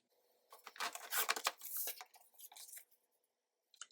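Scissors snipping through paper while trimming a junk journal page, a quick run of close, crisp cuts and rustles, then a pause and a final short snip.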